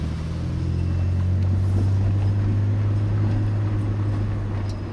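Mitsubishi 3000GT sports car engine running after repair work, a steady low idling rumble with a deep constant hum, heard close and alone.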